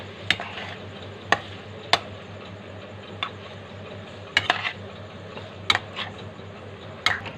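Noodles being stirred slowly in a pan at home, with sparse light clinks and scrapes of a utensil against the pan over a low steady background hum, no talking.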